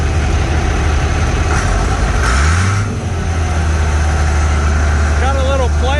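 An International Harvester 9 tractor engine idles with a steady low rumble throughout, briefly revving up and settling back about midway, loud and close.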